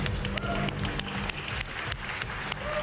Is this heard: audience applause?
yes